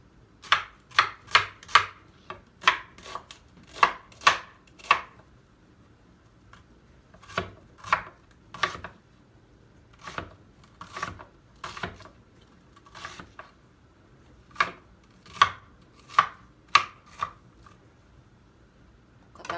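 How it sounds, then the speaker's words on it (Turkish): Half an onion chopped with a knife on a cutting board, a steady run of about thirty sharp, close knocks in uneven bursts with short pauses, no talking. "şimdi onun içine koymak için şu soğanın yarısını doğrayacağım"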